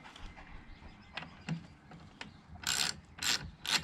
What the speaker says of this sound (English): I'm going to take both these off, so all 4 of these bolts.